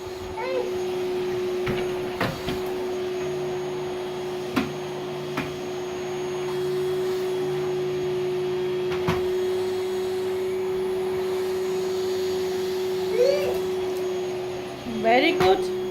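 A vacuum cleaner hoovers a floor with a steady, continuous motor drone throughout, punctuated by occasional bumps and knocks as a small girl pushes it, while a voice chirps briefly near the end.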